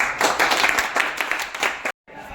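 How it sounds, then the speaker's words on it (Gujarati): A small group clapping for the winner of a lemon-and-spoon challenge, brisk uneven hand claps up close that stop abruptly, then faint room noise. "તો તાળીઓ પાડો"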